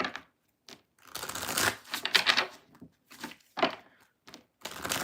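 Tarot cards are shuffled by hand in quick bursts of riffling and slapping, several separate rounds with short silent gaps between, close and moderately loud.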